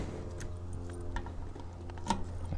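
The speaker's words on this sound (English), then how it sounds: "my fuel tank is making noises." Faint irregular ticking and clicking from the fuel tank of a Kawasaki Z1000 motorcycle with an airlock, heard over a low steady engine drone while riding on the highway.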